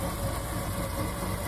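A steady, continuous pumpkin combine harvester engine drones on with a low rumble and even vibration, running without pause and with no voices.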